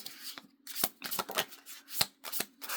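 Oracle cards being shuffled by hand, a run of crisp papery riffles and soft slaps in quick irregular bursts, close and clear with no talk.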